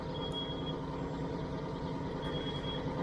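Smoke detector alarm sounding in a dorm room burn demonstration, a thin high electronic tone pulsing in two bursts over a loud steady rushing background.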